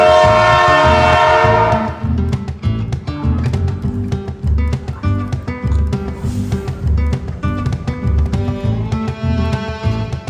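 A Central Railway passenger train rumbles steadily with rhythmic clacking and clatter; a sustained horn-like tone sounds at the start, then fades into continuous rolling rail noise.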